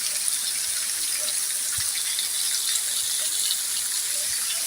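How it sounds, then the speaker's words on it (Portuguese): Heavy rain pouring down on a Tuesday morning, a dense steady hiss of downpour that stays even and continuous from start to finish, with no voices. "Chuva."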